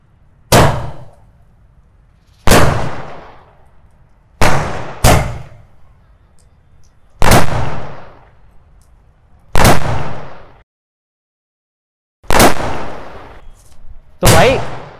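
Multi-shot sky shot firecrackers bursting during Diwali testing, a series of sharp loud bangs at uneven intervals, each with a brief crackling tail, alone with no talk between bursts.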